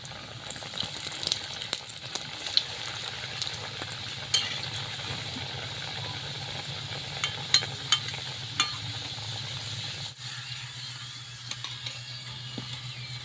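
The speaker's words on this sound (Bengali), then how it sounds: "বাকিগুলো আমি একইভাবে ভেজে নিচ্ছি" Anarkali sweets deep-frying in a pan of oil, a steady soft sizzle with light stirring clicks throughout, briefly dipping near the end before the bubbling continues, with no talking.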